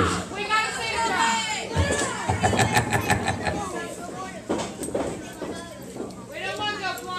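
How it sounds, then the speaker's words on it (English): A crowd at a live wrestling event cheers and shouts steadily throughout, loud and close, with an announcer's voice talking over the noise. "get loud and proud and cheer for your favorite wrestlers"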